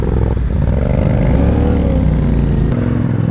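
A motorcycle engine labours up a steep, rocky track toward Nanga Parbat base camp, loud and close, with a continuous throaty drone, shifting revs and faint clatter over stones.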